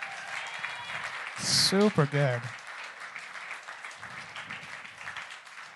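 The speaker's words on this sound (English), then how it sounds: "give him another round of applause." A youth group audience claps after a song, a brief burst of applause that is soon overtaken by close voices talking.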